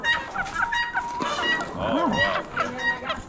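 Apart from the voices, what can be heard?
mottled Cochin hens and Wyandotte roosters clucking at auction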